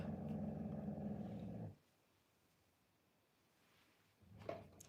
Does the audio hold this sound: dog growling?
yes